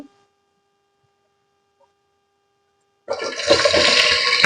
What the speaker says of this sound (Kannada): ಇವಾಗ ಎಣ್ಣೆ ಕಾದಿದೆ ನಾನು ಇಲ್ಲಿ ಈರುಳ್ಳಿ ಹಾಕೊಳ್ತಾ ಇದ್ದೀನಿ